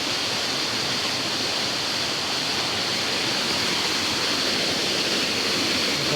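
Mountain water rushes and pours in a constant, dense roar of broadband splashing, steady and loud throughout with no breaks.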